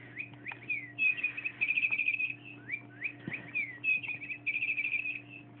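High, bright chirps and warbling trills repeat in quick bursts from a toy chickadee, like a small electronic bird toy, with a low steady hum underneath.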